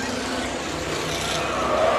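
Ford Division race cars roar around the Indianapolis Speedrome oval, a dense, steady engine drone swelling slightly toward the end as a pack passes, with a faint tire squeal and a commentator talking over it.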